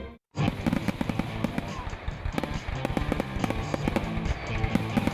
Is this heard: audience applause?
no